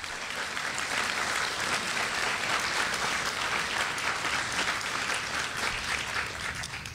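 Audience in Sulu applauding a group of mayors, a sustained, dense round of clapping from a large crowd that holds steady throughout and eases off slightly at the end.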